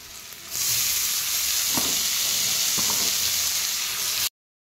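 Chopped leafy greens hit a hot pan at home and fry with a loud, steady sizzle and hiss, broken by a couple of soft stirring scrapes, close by with no talk.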